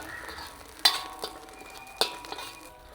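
Shark fish sambal being sautéed in oil in a pan, with two sharp clinks of a spoon against the pan and softer scraping stirs over a faint low sizzle, no talk.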